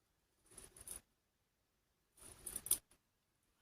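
Two short snips of scissors cutting material for a Christmas jar decoration, close and quiet, each about half a second long with a pause between them.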